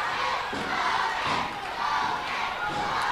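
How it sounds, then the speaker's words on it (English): A wrestling crowd roars and cheers wildly at an NWA pro-wrestling show, a loud, sustained wall of voices with rising surges and yells filling the arena, with no commentary over it. "You hear the crowd just going crazy"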